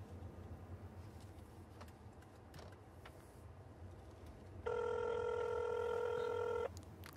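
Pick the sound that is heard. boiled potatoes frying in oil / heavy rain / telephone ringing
telephone ringing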